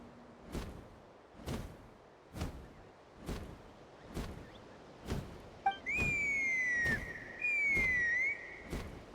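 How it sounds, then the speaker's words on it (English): Two long, clear whistled tones, each sliding slightly downward, ring out after a series of rhythmic dull thumps; loud and fairly close. "That sounded like a whistle."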